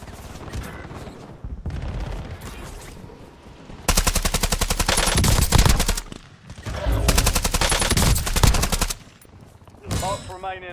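Machine gun fire in Call of Duty: Warzone, long rapid bursts of loud, close automatic shots broken by short pauses, with a game voice briefly heard between bursts.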